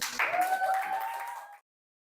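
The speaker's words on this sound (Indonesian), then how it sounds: "tepuk tangan untuk kelompok Al-Farabi" A student group at a teacher-training class session receives a short round of applause, moderately loud and lasting about a second and a half before cutting to silence.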